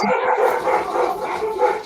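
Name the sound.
dogs barking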